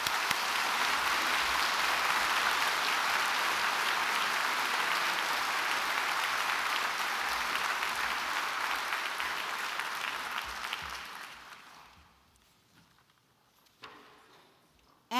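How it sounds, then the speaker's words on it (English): Graduation ceremony audience applauding after a run of names is read out, a steady dense wash of many hands that holds for about eleven seconds, then thins and fades to near silence. "We'll give them another round of applause."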